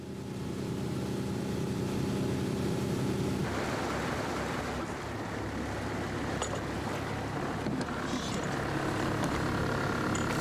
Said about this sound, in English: The motorboat takes us out to the orcas' hunting grounds.